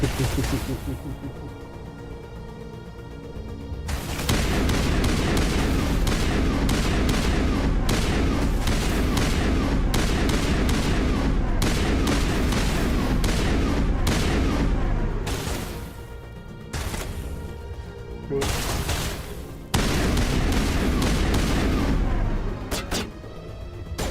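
Mortar blasts and gunfire fill a Mass Effect battle on Virmire, loud and dense, with sustained rattling fire and heavy booms broken by a few brief pauses.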